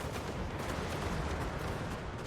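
Cannon and artillery fire in a Total War: Warhammer battle, a dense continuous barrage of overlapping booms and rumble, loud and steady throughout with no talk.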